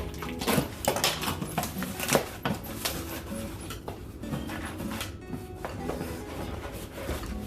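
New dinnerware bowls being unpacked from a box: ceramic clinks and knocks mixed with cardboard and packing rustles, close and moderately quiet, in irregular bursts.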